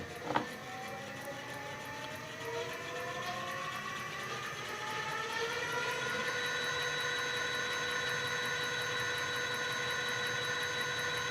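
An electric bike hub motor running under throttle on a stand, heard as a steady electric whine that rises in pitch for several seconds and then holds at a constant high speed, with no talking.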